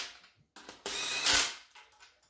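An impact wrench fires in a quick, loud burst during rapid assembly of a turbo 5.3 LS engine for a 4x4 Ranger build, heard close up with no talking.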